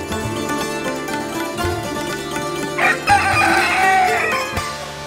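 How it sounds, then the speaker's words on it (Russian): Roosters crowing in Bhaktapur, Nepal, loud and fairly near, with a long crow rising out of a steady background murmur in the second half. "Вот так символично, под крик петухов"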